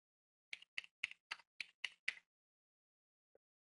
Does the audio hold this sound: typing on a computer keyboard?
yes